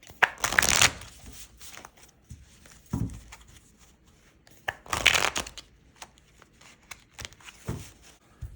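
Tarot cards being shuffled close up in several separate bursts of riffling and sliding, with quieter handling noises between them.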